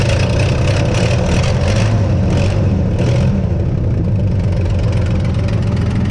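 A straight-piped 1980 Chevy C20 truck engine with a tinkered carburetor running steadily, a loud, close, rumbling idle with a rough low throb and slight rises in revs, no voices.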